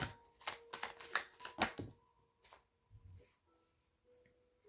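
Tarot cards being shuffled by hand, a run of soft crisp riffling bursts close up, followed by a few fainter card flicks and rustles with quiet pauses between.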